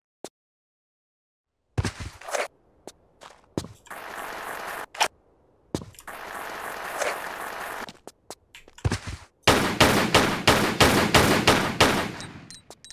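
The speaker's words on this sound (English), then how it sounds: "Oh yeah, I got the shotgun." A shotgun fires in the Tomb Raider 4 custom level Beneath the Forbidden City, sharp separate blasts with gaps, then a fast run of repeated shots near the end.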